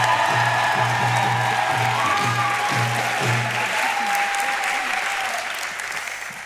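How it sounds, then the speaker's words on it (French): A political rally audience gives sustained, loud applause for high school students from Paul-Éluard, with dense clapping and scattered cheers that fade slightly toward the end. "je vous demande d'applaudir bien fort Aurore"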